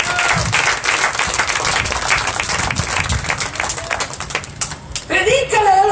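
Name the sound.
audience applause in church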